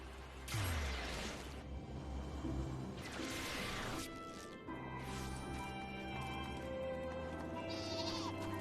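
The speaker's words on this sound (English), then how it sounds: "Is that a flying sheep?" Sheep bleating in the Final Fantasy XIV video game, two or three loud, wavering bleats in a row over steady game music and ambient effects, with no talking.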